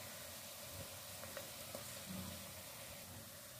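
Cumin, green chili and ginger sizzle steadily in hot oil while a moong chilka dal tarka is made, a soft continuous crackle with a few faint clinks, no talking.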